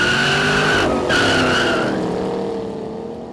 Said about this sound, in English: sliding around, doing burnouts.